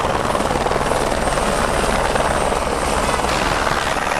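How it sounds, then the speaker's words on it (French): Small helicopter at the Tour de France, a loud, steady rotor thrum and turbine roar filling the whole stretch, close and continuous with no talk. "on va prendre les petits coucous, les petits hélicos."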